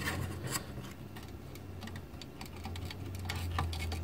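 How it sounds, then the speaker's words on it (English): Scratchy clicks and scraping as a piece of metal pries an IC chip up out of its socket, a steady run of small ticks and rubs at close range with no talking. "All you have to do is get a piece of metal and nudge that thing up."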